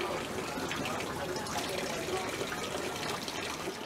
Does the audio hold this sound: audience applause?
no